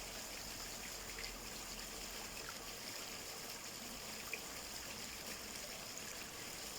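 A pond skimmer draws surface water and floating bits of grass into its intake, producing a steady, soft rushing trickle that stays even throughout, fairly faint and without any voices.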